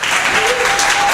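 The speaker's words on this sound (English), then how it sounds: "Please give a round of applause for Rena." An audience claps at a live storytelling event, a dense, steady burst of applause filling the room with no break.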